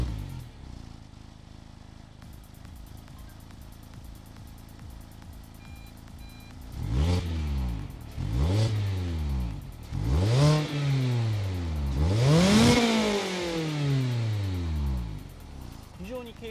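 A Mazda Roadster RF engine starts up after a quiet stretch, then gets revved in four rising-and-falling blips, each climbing higher, before settling back toward idle.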